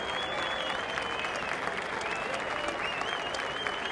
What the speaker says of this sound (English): Everybody, a round of applause for fucking Straw Hat Luffy, man.